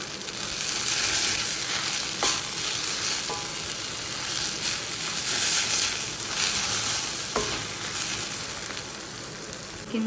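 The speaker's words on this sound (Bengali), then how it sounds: "আর এইদিকে করছি হচ্ছে কলমি শাক ভাজা।" Water spinach (kalmi shak) fries in a pan with garlic tempering, giving a loud continuous close sizzle with occasional stirring clicks and scrapes and no talk.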